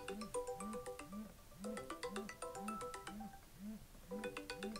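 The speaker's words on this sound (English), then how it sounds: "Okay, somebody calling my phone." Phone ringtone from an incoming call plays as a repeating melodic pattern with a steady pulsing low tone underneath, loud and continuous, with no talk.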